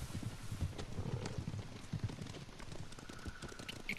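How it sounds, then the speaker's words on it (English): Hooves of approaching horses thud softly in Ghost of Tsushima, a loose cluster of muffled beats over a low outdoor wash, fairly faint and distant. "Horses, they're coming for us."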